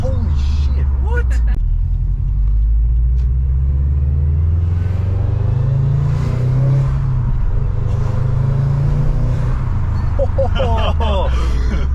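A Subaru with a Grimmspeed cold air intake revs inside the car with windows down, a deep rumbling engine note rising and falling through acceleration beneath excited talk from passengers.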